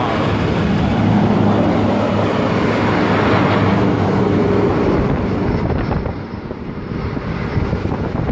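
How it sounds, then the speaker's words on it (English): A coal train hauled by XRN class locomotives in Glencore livery rolls slowly past at Sandgate, a steady loud rumble with wind buffeting the microphone, easing slightly toward the end. "it appears that we have a coal train, XRN classes. Still in their Glencore livery. About to pass."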